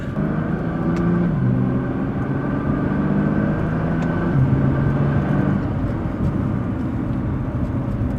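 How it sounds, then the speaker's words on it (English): A Nissan GT-R R35 idles steadily while warming up, a continuous low rumble with a faint drone running evenly throughout and no revving or talk over it. "we're gonna let her warm up a little bit before we get nasty"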